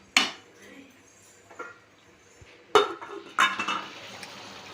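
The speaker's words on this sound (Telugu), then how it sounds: "మూత పెట్టేయండి." A metal lid goes onto a cooking pot of Andhra-style coconut rice with a sharp clank, then a couple more clattering knocks of metal cookware close by.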